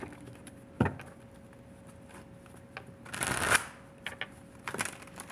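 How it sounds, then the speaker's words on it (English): A deck of tarot cards riffled and shuffled by hand, a sharp snap near the start, then a longer burst of rapid riffling and a few quicker shuffles later, close up and fairly quiet. "Get a couple more shuffles in and then you start your reading."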